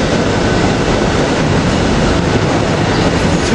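Commuter rail cars at 30th Street Station make a loud, continuous rumble and roar of wheels on track, sustained throughout at close range.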